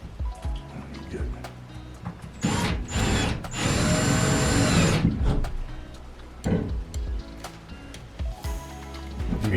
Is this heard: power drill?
yes